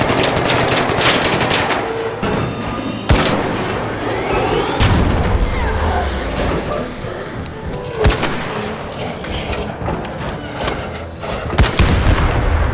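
Gunfire in the video game Arc Raiders, shooting at a robot: dense, continuous automatic fire with sharp booming shots and metallic crashes that stay loud throughout, with no talking.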